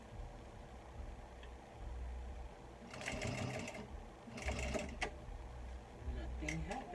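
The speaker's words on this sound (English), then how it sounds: "because my D-ring is too close, I'm gonna back stitch this particular area." A sewing machine back-stitching a strap area near a metal D-ring on a small backpack, its motor whirring steadily close up in several bursts over a constant low hum.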